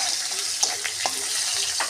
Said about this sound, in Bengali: রসুন ভাজা ভাজা হয়ে আসলে তখন পেঁয়াজ দেবো।